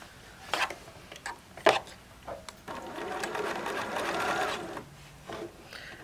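A sewing machine stitches quilt squares together. A few short taps of needle and motor come first, then a longer steady whir of continuous stitching that stops, followed by another brief burst, all close and clear.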